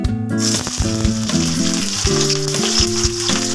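Chopped onions hit hot oil in a kadai while cooking methi chicken, setting off a loud, steady, close sizzle that runs throughout, with light clattering on top and no voices.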